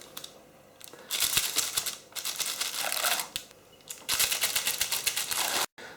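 Pastry rounds being cut out one after another for Portuguese custard tarts (pastéis de nata), with crisp, papery cutting and tearing bursts in several close, moderately loud bouts separated by brief pauses.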